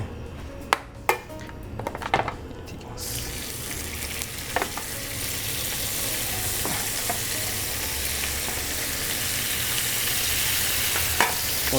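Pork searing on high heat in a pan for a whisky-sauce dish, a dense, loud, steady hiss that bursts on after a few quiet clinks and runs on unbroken with occasional utensil taps.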